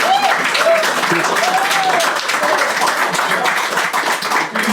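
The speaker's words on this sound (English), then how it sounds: "Can you please give a big round of applause for Bill for doing this?" Dense applause from a live folk music audience fills the whole stretch, steady and loud, with a few whistles and cheers rising above the clapping.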